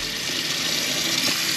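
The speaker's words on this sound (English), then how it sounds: "the hot water system's now up and running, and we've got full hot water" Hot water gushes steadily and loudly from a tap in an off-grid caravan fitted with a water diverter valve, a constant rushing flow with no voices.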